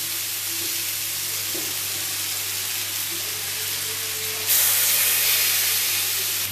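Ajwain fish kebabs frying in a hot pan over medium heat, a steady broadband sizzle and hiss that swells suddenly louder partway through, close and continuous without talk.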